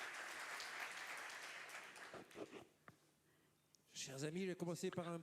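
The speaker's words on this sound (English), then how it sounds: "We're going to give you a round of applause." Brief applause at the start, fading into quiet murmurs and a pause before a voice begins talking.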